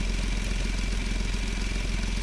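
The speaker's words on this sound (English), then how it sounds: "As you can see, it kind of sounds like a motorcycle engine." A motorcycle-like engine idling in the Automation car-building game, a steady, even mid-pitched thrum with a fine rapid pulse, close and continuous with no voices.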